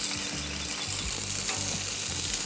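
Food sizzles and fries steadily on a Monument Grills Mesa II 415BZ gas grill, a constant close hiss with faint clicks and scrapes underneath.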